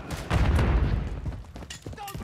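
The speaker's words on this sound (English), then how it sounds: "Throwing flash grenades!" Flash grenades go off in a first-person shooter video game, a burst of loud, close booming bangs with rattling gunfire-like crackle that fades into scattered quieter pops.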